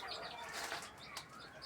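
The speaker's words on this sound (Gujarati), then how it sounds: "અને આ આપણું કબૂતર" Close, soft fluttering of a pigeon's wings in a small home aviary in the evening, a brief quiet burst of flapping.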